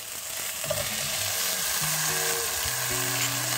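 Green beans and okra sizzle in a hot pan with onions, a steady close frying hiss with light stirring scrapes, no talking.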